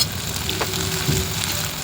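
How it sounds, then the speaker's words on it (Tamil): Squid thokku masala sautéing in a pan with salt and turmeric, giving a steady close sizzle and fry crackle that stays even throughout with no voices. "உப்பு, மஞ்சத்தூள் 2 சேர்த்து வதக்கிக்கலாம்."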